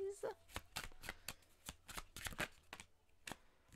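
Tarot cards riffled and slapped down in a quick run of crisp shuffling clicks and flicks, close and fairly quiet, with soft room sound between them.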